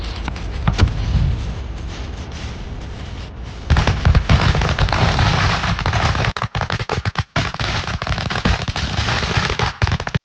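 Firecrackers bursting in a rapid, dense string of loud crackling pops that keeps going and swells into heavier bangs partway through, with a few short gaps near the end.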